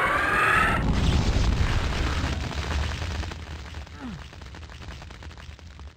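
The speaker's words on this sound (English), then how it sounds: "God, there are a lot of missiles here." A dense rumble of missiles and explosions in a video game, a heavy roaring barrage that starts loud and slowly thins into scattered booms and crackle.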